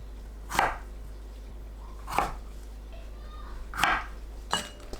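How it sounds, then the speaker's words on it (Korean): Knife chopping cucumber into bite-size pieces on a cutting board: four separate crisp chops spaced over a few seconds, close and fairly quiet, with a low steady hum underneath. "오이를 한 입 크기로 썰어줍니다."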